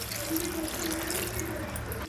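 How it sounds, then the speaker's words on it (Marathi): Water runs steadily for a couple of seconds, a continuous splashing stream rinsing a mixer jar, with no voices. "मिक्सरचा भांडा धुवायचा आणि पाणी घालायचा"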